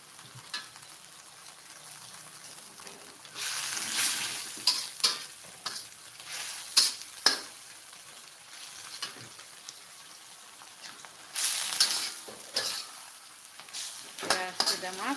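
Water spinach (kangkung) stir-fried in a pan in a home kitchen, with steady sizzling and repeated scraping stirs that swell in bursts, while someone talks at intervals.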